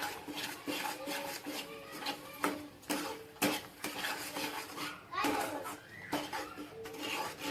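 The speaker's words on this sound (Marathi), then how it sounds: "आणि पनीर मसाला हे व्यवस्थित आपण मिक्स करून घेऊ" Paneer and masala being mixed in a pan for a matar paneer curry, repeated metallic scrapes and taps of a spoon against the pan over a soft sizzle, close by, with faint voices in the background.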